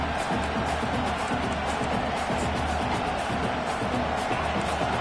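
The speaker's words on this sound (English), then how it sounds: "The roar of the crowd trying to fuel this defense to keep them pinned in their own end." American football stadium crowd roaring in support of the defense, a dense, loud, continuous wall of voices and cheering that holds steady throughout with no lull.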